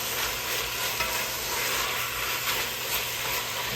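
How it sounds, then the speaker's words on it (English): Gulf shrimp searing in a pan alongside spicy sausage, a loud, dense and continuous sizzle heard up close with no talking over it. "we're going to throw that shrimp in there. Throw that shrimp in there, y'all. Beautiful Gulf shrimp. Throw that in there. Get that searing up in there."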